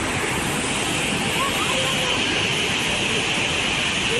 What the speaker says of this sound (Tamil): பெரியார் அருவியில் காட்டாற்று வெள்ளம் பெருக்கெடுத்து ஓடியது